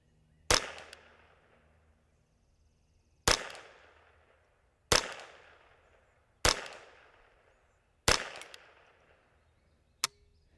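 Five sharp, evenly spaced cracks from a Ruger 10/22 .22LR rifle at an outdoor target range, each shot decaying quickly, followed by a faint click at the end; no talking.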